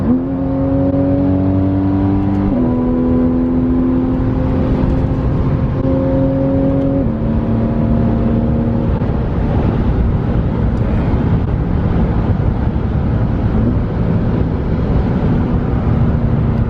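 Porsche 911 Carrera S with a Shark Werks sport exhaust and PDK gearbox accelerating on the road: a loud, steady engine drone rising in pitch, dipping at a gear change, then climbing again, heard from inside the car.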